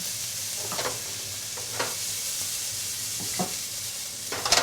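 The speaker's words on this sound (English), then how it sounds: "I like to cook the onions until they're translucent" Onions sizzling and frying in a pan for chicken cacciatore, a steady close hiss with a few soft scrapes from stirring, no talking.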